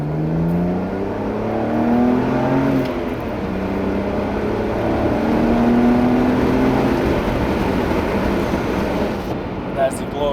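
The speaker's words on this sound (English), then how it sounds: "There's the glorious straight six on the song there" A BMW 130i straight-six pulls hard under acceleration from inside the car, a steady loud engine drone with rising harmonic sweeps, continuous throughout with a voice briefly over it.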